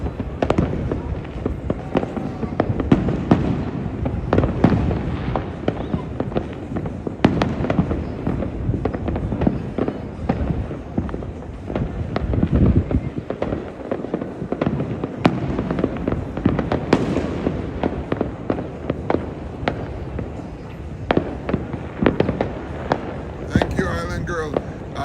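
New Year's Eve fireworks and firecrackers in Trinidad crackle and boom continuously, a dense barrage of loud and distant explosions with voices talking underneath.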